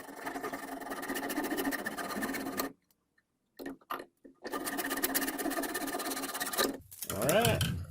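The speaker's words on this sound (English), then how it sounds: "let's get it in the vise and see if we can get it cut" A homemade door latch clamped in a vise is cut with steady, rapid rasping strokes that stop briefly, then resume in a second long run before a short tonal ring at the end.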